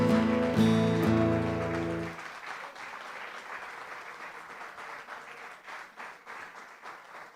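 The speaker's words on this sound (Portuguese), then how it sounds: "Aplauda Jesus, por favor." A church congregation claps during a worship service: sustained, dense applause that carries on steadily after sustained musical tones fade out in the first two seconds.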